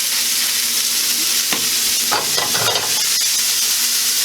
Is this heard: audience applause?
no